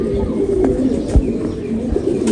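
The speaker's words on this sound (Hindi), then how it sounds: "ये जी ये है जी एक मेरा दुबई वाला कबूतर जिसका अक्सर मैं जिक्र करता हूँ," A pet pigeon of a breed brought from Dubai coos close by in low, throaty, repeated phrases over steady background noise.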